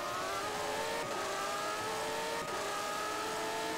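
A Brabham Formula One race car with a Judd engine in a racing video game, its engine droning steadily at high revs throughout with a sustained whine, no talking.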